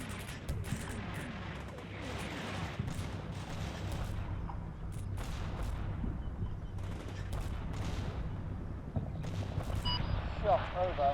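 Artillery fire in the combat game Combat Mission Shock Force 2, a dense run of booming and crackling blasts under radio-style voices talking throughout.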